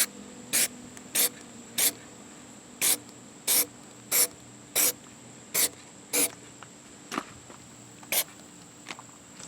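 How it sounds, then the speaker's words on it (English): Short, sharp bursts of an aerosol can spraying rust-preventive coating onto a Ford F250/F350 truck gas filler, about a dozen evenly spaced hisses, close and fairly loud, with no talking. "I can just spray a little bit on there to keep it from rusting again"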